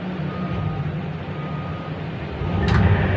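A Hitachi 2500 excavator engine idles at about 780 rpm with a steady, loud, dense rumble, and the sound swells slightly near the end along with a brief higher hiss.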